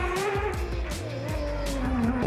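A rear-wheel-drive Mazda RX-7 rally car at the Waimate 50 motorsport festival revs hard up close, its engine note rising and falling through quick gear changes with a hint of tyre squeal.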